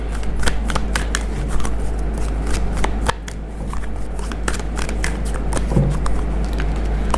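Tarot cards being shuffled by hand close up, a continuous stream of rapid flicking, riffling and slapping taps with a brief pause midway and faint room hum beneath.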